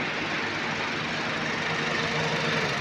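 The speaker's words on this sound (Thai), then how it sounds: "เครื่องยนต์จะเรียบปกตินะครับ นี่ผมสตาร์ทไปสักพักแล้วนะครับผม" A 2013 Honda Civic FB 1.8 i-VTEC automatic engine idles steadily nearby, a smooth, even hum that never changes pace.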